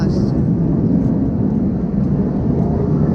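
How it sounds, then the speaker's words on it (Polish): Military F-16 fighter jets circling overhead near an airport in Singapore, a loud, steady, broadband roar that stays constant without fading, with voices talking over it. "tak słychać samoloty z lotniska ale latają wojskowe M16 czy jakoś tak? F-16"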